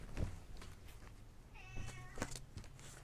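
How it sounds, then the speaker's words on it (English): A house cat meows a few times, soft and fairly close, its calls standing out over a quiet room. "We'll see if Katie Cat will come talk to you again."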